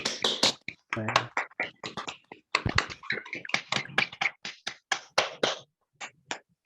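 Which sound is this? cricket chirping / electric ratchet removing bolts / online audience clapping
online audience clapping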